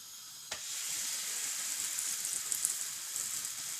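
A Moroccan msemen crêpe dropped into a hot pan gives a soft thud, then sizzles and fries with a steady, close hiss that lasts throughout, with no talk.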